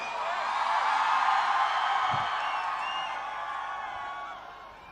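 University students cheer and applaud as Imran Khan arrives, in a big sustained burst of crowd noise with whoops. It holds steady, then slowly fades.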